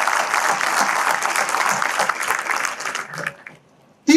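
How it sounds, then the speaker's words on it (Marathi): Hearty applause from the audience at a motivational talk for jewellers, dense for about three seconds, then tapering off into near silence before a short sound at the end. "एकदा तिच्यासाठी आपण जोरदार टाळ्या वाजवल्या."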